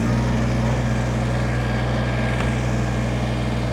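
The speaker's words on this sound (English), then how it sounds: "I'm going to fire this tractor up." 2020 Kubota BX23S sub-compact tractor loader backhoe engine running at a steady, loud, unbroken drone from start to end, with no voices.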